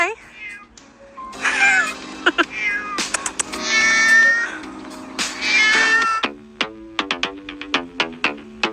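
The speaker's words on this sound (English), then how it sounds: "just break up the cat fight" Cats fighting outdoors in a park, with loud yowling, caterwauling and sharp hissing meows in quick bursts and then a series of short repeated cries, up close and loud.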